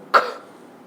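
A single short cough, close and fairly soft, with a brief fading tail and no talking.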